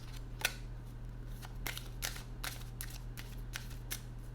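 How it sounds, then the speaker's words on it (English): Oracle cards being pulled and shuffled from a deck, a series of faint, sharp papery flicks and snaps spaced irregularly over a steady low electrical hum. "I want to pull two final cards, oracle cards"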